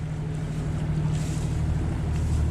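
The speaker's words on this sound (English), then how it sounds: "We are motoring and we've had to motor all day." Steady low engine drone of a sailboat motoring at sea on the Ionian crossing, with wind and water rushing over it, continuous and close with no talk.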